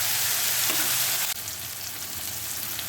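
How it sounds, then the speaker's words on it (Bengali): Chopped tomato and onion frying in a pan with paste, a loud, dense, continuous sizzle close by that dips slightly midway and carries on steadily. "টমেটো কুচি একটু ভেজে নেব পেঁয়াজ টমেটো আমরা পেস্টেও দিয়েছি আর এটা একটু ভেজে নিচ্ছি"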